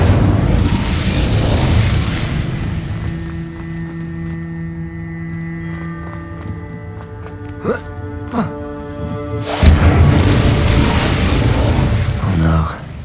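A fire spell is cast in the Hogwarts Legacy video game, giving loud booming bursts and crackling blasts over game music, with a few sharp pops near the end.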